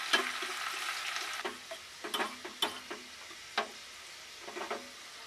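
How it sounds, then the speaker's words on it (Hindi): Onion frying in a pan until light golden for chicken rajma, a soft sizzle punctuated by a series of sharp spatula taps and stirring clicks, quiet and close with no talk. "अनियन डाल दीजिए, फिर लाइट गोल्डन होने तक फ्राई करके"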